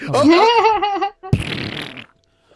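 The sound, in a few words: fart sounds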